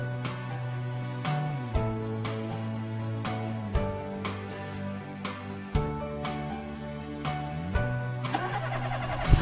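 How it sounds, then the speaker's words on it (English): A cartoon amphibious car's engine starts with repeated cranking bursts and steady tonal droning, surges and cuts recurring in a rhythmic cycle before a final rising rev, clear and alone. "Start the engine."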